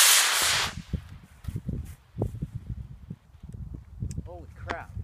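An Estes model rocket on a small starter motor launches outdoors with a brief loud whooshing burst at the start, followed by voices and rustling movement nearby.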